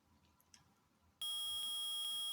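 Metal detector in Phoenix Wright Ace Attorney lets out a sudden loud, sustained electronic beep tone that cuts in after a quiet moment and holds steady to the end.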